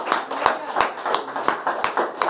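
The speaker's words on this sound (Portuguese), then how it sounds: "dá uma salva de palmas para ele nesta noite." A church congregation claps together during an Easter service, a dense steady round of applause with sharp rhythmic hand claps standing out, fairly close and lively, with faint voices underneath.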